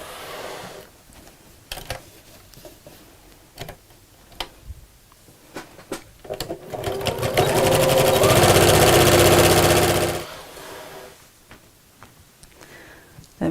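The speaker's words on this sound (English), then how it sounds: "where you start sewing and where you finish sewing, go backwards and forwards a few times, and that'll really strengthen the seam" Sewing machine stitching an apron seam, with a few scattered clicks and short bursts before a steady, close whir of rapid stitching for a few seconds that then stops.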